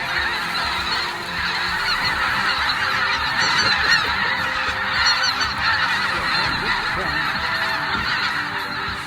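A dense flock of white-fronted geese honks continuously as the birds pass low overhead at a hunt, the loud clamor of many overlapping calls steady throughout.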